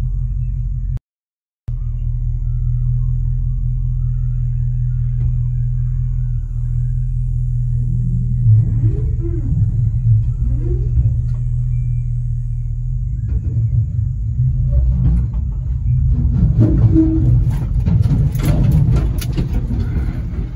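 A Chevrolet C10 pickup rolling off a trailer gives a steady low engine rumble throughout, close and continuous, with faint clunks and scraping toward the end.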